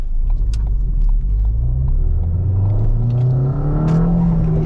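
A Ford Fiesta ST200 with a Revo Stage 2 tune accelerating, heard from inside the car: a loud, continuous engine drone rising steadily in pitch over deep road rumble, with a few light clicks and rattles.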